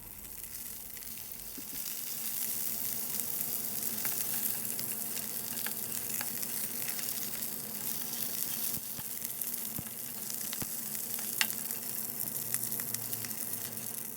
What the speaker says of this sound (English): fry your vegetable sausage until golden brown